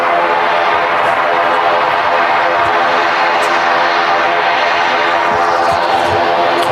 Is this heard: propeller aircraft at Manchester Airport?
yes